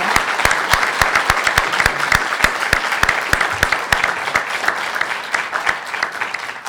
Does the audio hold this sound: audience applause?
yes